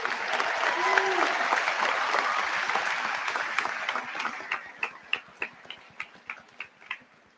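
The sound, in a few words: audience applause at commencement ceremony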